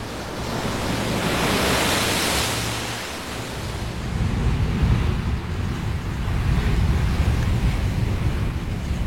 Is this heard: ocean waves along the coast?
yes